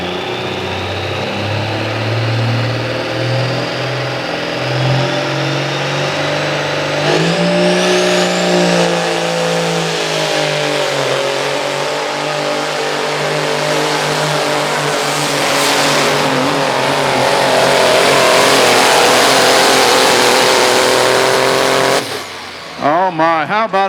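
Peterbilt pulling truck with an old-school Cummins KTA 600 engine at a county fair pull, loud roaring diesel that climbs in pitch and strains hard for about twenty seconds before cutting off abruptly.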